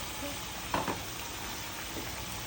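Prawns sauté in a pan with a quiet, continuous sizzle, broken by a couple of brief stirring clinks near the start.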